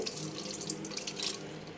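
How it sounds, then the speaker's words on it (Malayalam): A steady stream of water splashes softly into a bowl for a gram-flour snack batter, continuous and close, with no voices. "ആദ്യം വെള്ളം ഒഴിച്ച് കൊടുക്കാം."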